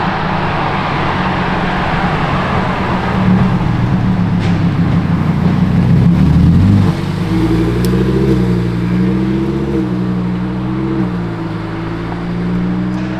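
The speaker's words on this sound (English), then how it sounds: "That's what I was talking about, the glorious V12 engine." The V12 engine of a Lamborghini Revuelto drones loudly on the road, a deep steady roar that swells as it revs, then settles into a lower, smoother cruise.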